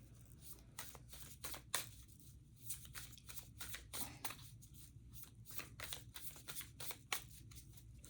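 Tarot cards being shuffled up close, a steady run of crisp riffling flicks and soft slaps, with no talking.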